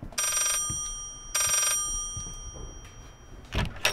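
An old-style bell telephone ringing in the horror game Layers of Fear, two loud, shrill bursts about a second apart, followed by softer thuds and clatter, with no one talking.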